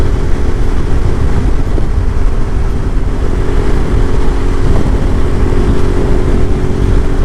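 A Suzuki V-Strom 650 XT motorcycle on Michelin Anakee Adventure tyres rounds a corner on an open road, giving a loud, steady engine drone mixed with heavy wind rush.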